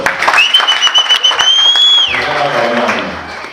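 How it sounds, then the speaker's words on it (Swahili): Guests applaud at a wedding ceremony, a steady wash of clapping running through the clip while a shrill sustained tone rises, holds and then drops away. "Mpigie makofi."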